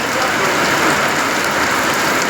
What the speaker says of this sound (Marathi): पाऊस किती आमच्या गावाकडे झालाय तुम्ही बघा